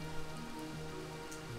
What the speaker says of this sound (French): C'est pas du grésillement que tu entends, c'est la pluie dehors.